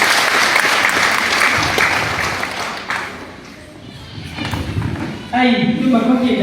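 Crowd applause at a church gathering during a speech, loud and sustained, thinning briefly in the middle and swelling again before a speaking voice breaks in at the end.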